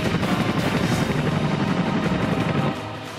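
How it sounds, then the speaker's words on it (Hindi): An Indian Air Force Chinook twin-rotor transport helicopter passes close and loud at an airbase, a dense rumbling roar with rapid rotor beat that drops off near the end. "वायुसेना के बेड़े की शान चिनूक हेलीकॉप्टर"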